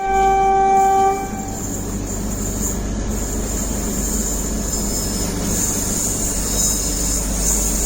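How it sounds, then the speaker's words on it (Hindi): Mangalore Junction CSMT Rocket Express passing at a railway crossing, a train horn blast at the start giving way to the loud, steady rumble and clatter of the carriages rolling past close by. "शायद वो Mangalore junction CSMT rocket express ही होगी"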